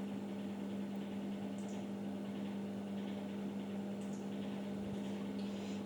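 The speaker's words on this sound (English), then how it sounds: "And microwave this again for 25 seconds." A microwave oven runs, heating a gelatin, liquid glucose and shortening mixture for gumpaste: a steady low electrical hum with fan noise, constant and fairly quiet, with a few faint clicks and no talking.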